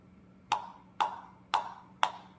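A ping pong ball strikes a paddle faced with new Tuttle Heart K rubber, giving four crisp, evenly spaced pops with a short bright ring, about half a second apart, close and alone.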